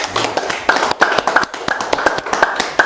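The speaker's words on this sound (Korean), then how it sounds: "박수로 모시겠습니다." Audience applause welcoming a guest lecturer onto the stage at a business talk, a run of sharp, uneven hand claps of moderate loudness sustained throughout with no talking.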